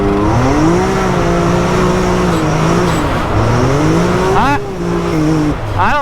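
An X3 side-by-side off-road vehicle on bald tires drives with a steady loud engine drone that rises and falls with throttle, with brief tire chirps near the end and a person talking over it.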